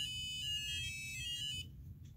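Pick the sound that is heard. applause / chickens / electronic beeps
electronic beeps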